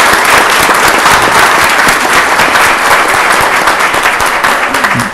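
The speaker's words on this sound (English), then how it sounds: "go ahead and applaud" Applause from a council meeting audience, loud, close and sustained, with individual sharp claps standing out in the dense clapping and easing a little near the end.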